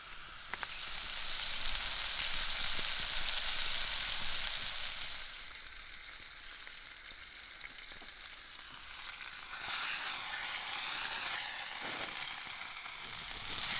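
A burger sizzles and fries on a stick stove outdoors on an island shore in the Michigan wilderness, loud and steady at first and then settling to a quieter crackle, with no talking.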